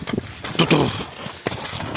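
Hooves of Soviet heavy draft stallions at a stallion showing, a few irregular heavy thuds and clops on the ground, close and fairly loud with background noise between steps.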